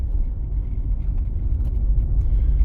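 Car driving over a rough, poorly paved road at low speed during a driving exam route, a steady close low rumble from tyres and engine inside the cabin with no talk.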